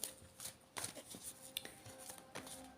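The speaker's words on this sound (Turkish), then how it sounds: "Hadi bismillah deyip kartlarımı karıştırıyorum." Tarot cards shuffled by hand: a quiet series of soft riffling and slapping bursts at close range, uneven in rhythm, with faint background hum and no talk.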